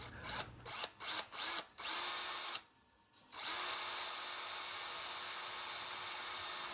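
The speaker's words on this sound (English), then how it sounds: "I simply drill a hole in the bottom." A power drill starts and stops in several quick bursts, pauses briefly, then runs steadily at high speed close by, drilling a hole in the bottom of a model tree.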